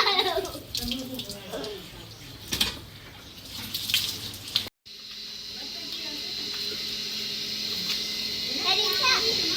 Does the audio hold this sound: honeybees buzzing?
no